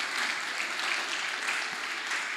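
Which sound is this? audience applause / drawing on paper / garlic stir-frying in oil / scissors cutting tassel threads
audience applause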